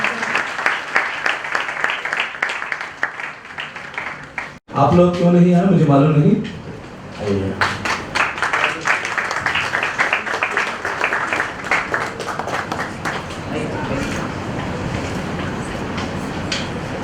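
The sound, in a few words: audience clapping to welcome Brother Pradeep Ranjan on stage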